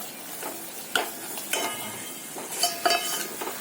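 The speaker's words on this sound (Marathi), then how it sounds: "तेलामध्ये ते चांगलं परतून घेत राहायचं थोडा वेळ, 2 मिनिटं." Masala frying in oil, stirred in a pan for a couple of minutes: a close, steady sizzle broken by repeated scraping strokes and light metallic clinks of the spoon against the pan.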